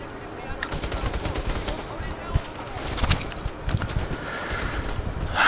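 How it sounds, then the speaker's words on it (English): Gunfire in the Bravo Team PSVR virtual reality shooter crackles in scattered bursts and single shots under a noisy battle backdrop, fairly close. "Who the fuck's shooting me now?"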